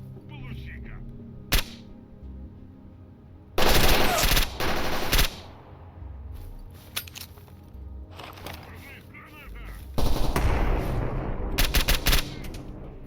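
Gunfire in STALKER Anomaly comes as a single sharp shot, then two loud sustained bursts of rapid automatic fire with lighter cracks between, alongside a player's voice.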